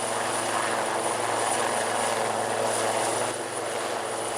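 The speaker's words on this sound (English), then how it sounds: "Wildcat helicopters manoeuvring underslung loads" A Wildcat military helicopter's steady rotor and engine roar while manoeuvring underslung loads, loud and continuous throughout, with a high whine on top and no voices.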